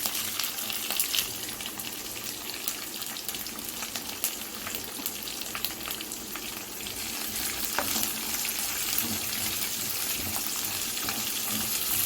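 Garlic and ginger pieces fry in hot oil in a pan, a steady close hiss and crackle with occasional stirring scrapes, continuous throughout with no talk.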